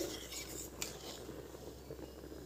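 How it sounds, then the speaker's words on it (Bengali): Olives simmering in jaggery stirred in an uncovered pot, faint scraping and clinking of a spoon against the pan over a low bubbling hum, quiet and close with no speech. "চাপা খুলে আমি আবারও একটু নেড়ে নিচ্ছি"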